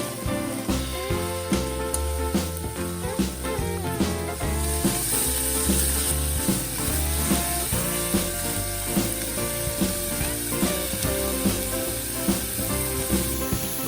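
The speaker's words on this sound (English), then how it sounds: "Put 200 grams of pork into preheated pot." Two hundred grams of pork sear in a preheated pot as the start of kimchi-jjigae, giving a steady, close sizzle and crackle that runs unbroken throughout with tonal sounds layered over it.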